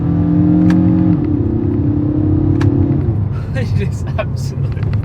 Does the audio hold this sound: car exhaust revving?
yes